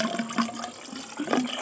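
Coolant pours into a freshly rebuilt engine's block and radiator after a heads and cam swap, a steady liquid gurgle and splash that swells in the last half second.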